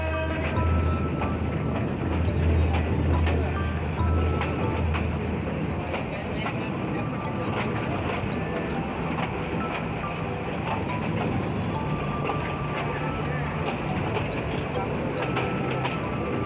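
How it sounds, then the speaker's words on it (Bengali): A train rumbles and rattles steadily while crossing from one track to another, rhythmic clacking of wheels over track joints, loud and close, continuing throughout without a break. "আঁকাবাঁকা হয়ে ট্রেনটি দুই নম্বর রেল থেকে এক নম্বর রেলে পার হচ্ছে"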